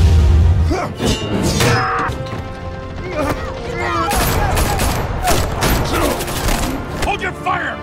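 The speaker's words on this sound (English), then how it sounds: "Hold your fire, damn it! Yeah, stop shooting at me." Bursts of gunfire and impacts in the Batman Telltale game, loud overlapping shots, crashes and clatter in rapid irregular volleys, mixed with game dialogue and music.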